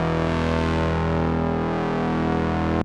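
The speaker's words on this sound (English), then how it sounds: "Using the sawtooths as bass gives you more of a growly type of bass" A growly sawtooth synth bass, shaped with a filter cutoff and dropped an octave, holds one steady, loud, buzzy note for about three seconds and then cuts off abruptly.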